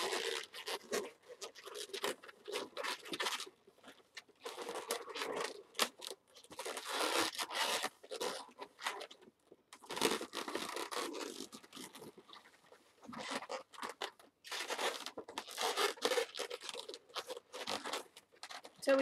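Rubber balloon twisted around a clear balloon, with repeated squeaky rubbing and crunchy friction bursts in an uneven rhythm, close and fairly quiet, no voices.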